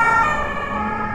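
A wailing police siren holds steady and loud over a low rumble of Paris traffic at night, filling the whole moment without any talking.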